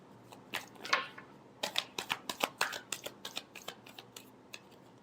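Tarot cards being shuffled up close, a quiet run of quick crisp riffles and snaps that speed into a brisk, evenly spaced series of flicks before fading out.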